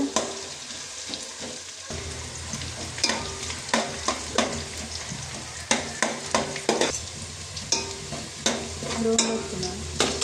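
Onions sizzling and frying in a pan for Mangalore-style chicken puli munchi, with repeated sharp scrapes and clinks of a spoon stirring at close range over a steady hiss.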